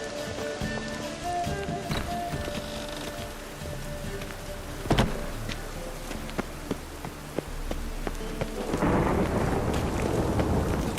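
Steady rain and rolling thunder in The Witcher 3 video game, a continuous wash of rainfall with several sharp thunder cracks, swelling heavier near the end, with no talk over it.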